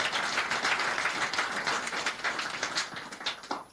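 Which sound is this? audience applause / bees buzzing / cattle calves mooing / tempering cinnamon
audience applause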